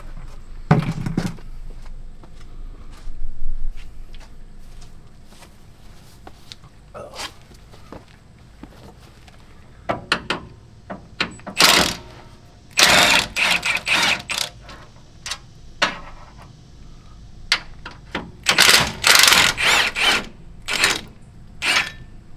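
A 14mm socket wrench works bolts loose on a Toyota Tacoma during a shock installation, with sharp intermittent clicks, clunks and taps that come in clusters between quieter stretches.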